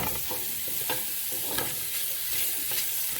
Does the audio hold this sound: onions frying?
yes